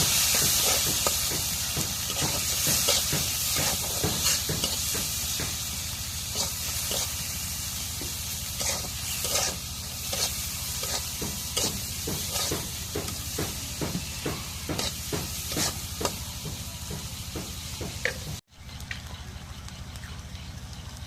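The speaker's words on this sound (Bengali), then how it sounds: "এখন শুটকিটা তেলে আমি দিয়ে দিই। এখন নাড়া দিয়ে দিই।" Dried fish frying in hot oil while being stirred, a steady close sizzle with a scatter of sharp crackles and pops throughout, then a brief dropout near the end before the sizzling resumes.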